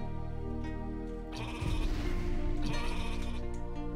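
Sheep bleat in the game Rain on Your Parade, a steady layered chorus of loud, close cries that swells midway and carries on without speech.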